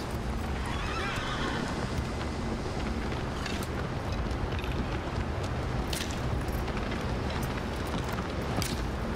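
A horse from the video game Shadow of the Colossus whinnies and its hooves clip-clop in a steady stream against a constant rushing wind, with the neighs standing out over the hoofbeats throughout.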